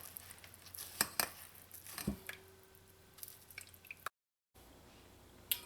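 Grated coconut is pressed down by hand to drain its liquid, giving soft wet squishes and drips with a few sharp clicks. The sounds are close and fairly quiet, with a short break of silence near the end.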